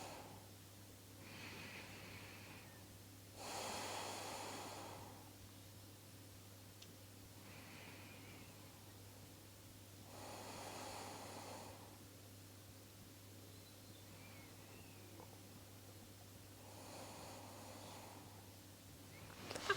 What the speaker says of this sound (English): Three more deep breaths.